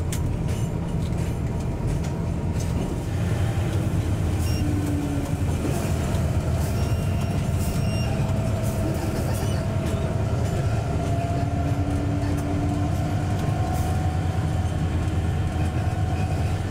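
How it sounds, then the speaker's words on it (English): A train climbs a mountain railway in Myanmar, its steady heavy rumble and rolling wheel noise continuous and loud throughout, with faint squeals drifting through. "The train is now 400 meters higher than it was when it began the ascent"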